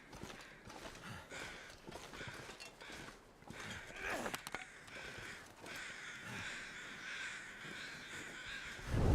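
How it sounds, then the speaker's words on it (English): Crows caw repeatedly in the wilderness of The Long Dark, harsh calls scattered through the scene at moderate distance over a hissing wind-like background, with a few soft thuds that could be footsteps. "Oh, I hear you, crows."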